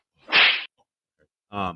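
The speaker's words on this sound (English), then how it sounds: "I'm gonna slap myself in the face for bothering you with birds" A single sharp slap of a hand against a person's own face, a brief crisp smack in an otherwise quiet space, followed a moment later by a short vocal sound.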